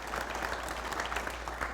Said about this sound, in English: I just want to give everybody applause for being here.